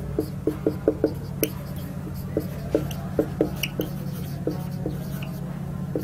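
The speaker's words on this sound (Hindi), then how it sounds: "यहां पे लिखते हैं पुटिंग द वैल्यूज" Short tapping and scratching strokes of writing come in uneven bursts while a math equation is worked out on a board during a class 10 lesson, set over a steady low hum.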